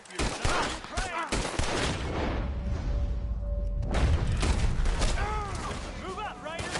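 Dense gunfire from a Red Dead Redemption 2 shootout rattles almost continuously, with overlapping shots and booms. Voices call out over the fighting throughout.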